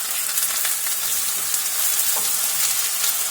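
Garlic clove and green onion frying in a pan for a baked shrimp rice casserole, a loud, steady, close sizzle with crackling spatters and no talk.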